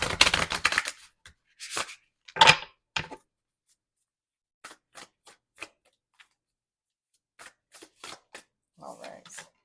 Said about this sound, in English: I'll do a quick shuffle this way.